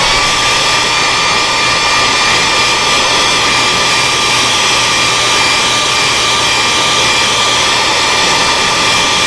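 A heat gun blows a steady, loud, even roar of hot air with a high whine while setting paint on a fishing lure, unbroken throughout and close by.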